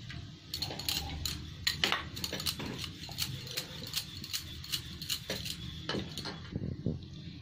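Paratha dough being rolled out with a rolling pin on a board, a quiet series of irregular wooden knocks and taps with soft rolling friction in between, close by with no talking.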